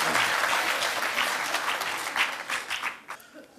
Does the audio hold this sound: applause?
yes